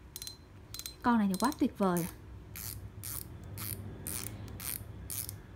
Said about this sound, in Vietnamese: Đây, đây là tiếng lưỡi gà của nó.